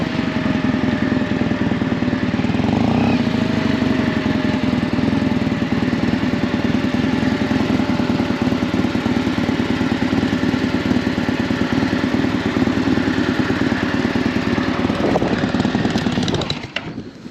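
A Yamaha XTZ Ténéré 750 motorcycle engine runs on gravel, a loud, steady mid-pitched drone that holds almost unchanged throughout before cutting off near the end.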